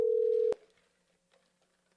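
A telephone tone sounds steady and loud for about half a second while redialing a number during a cold call, then cuts off sharply, leaving near silence with faint line noise.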